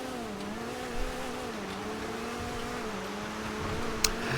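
GB200 rally car engine in the video game GTA Online holds a steady, moderately loud drone with a slight waver in pitch, and a brief sharp click near the end.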